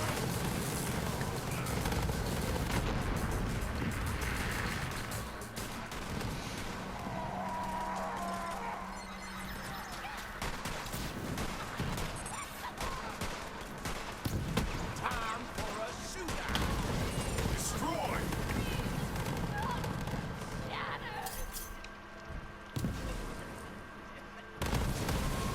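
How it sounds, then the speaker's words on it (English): Gunfire rattles repeatedly as guns are fired wildly into the sky in Borderlands 3, with dense bursts, impacts and crashes over a busy combat backdrop, while someone talks throughout. "I'll just keep firing wildly into the sky"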